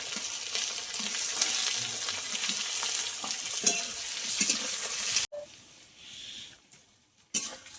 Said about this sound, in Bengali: তাও আলুটা পেঁয়াজটা একসঙ্গে ভেজে নেব